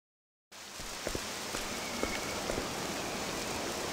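After a brief silence, steady rain begins falling in the video game Octopath Traveler 2, a dense even hiss with occasional sharper drops tapping nearby surfaces.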